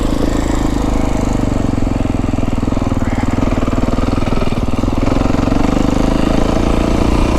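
A Beta 350rr X-pro dirt bike engine chugs at low RPM on a trail ride in the Santa Rita mountains, a loud, close, steady thumping idle-like rumble that continues throughout.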